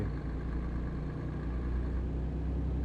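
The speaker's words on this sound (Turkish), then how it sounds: "Harbiden motor sesi çok gerçekçi yapmışlar." A Tourismo 16 RHD bus engine idles in Euro Truck Simulator 2 with a steady low rumble and hum, constant and unchanging throughout, no voices present.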